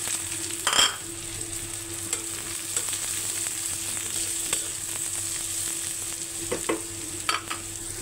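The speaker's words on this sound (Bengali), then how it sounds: "ভাজা শেষ, ওই ডিম ভাজাটা দিয়ে পেঁয়াজ ছেড়ে দেবো।" Onions sizzle in oil in a pan right after fried eggs, a steady close crackle broken by occasional louder utensil stirs and scrapes, with no talking.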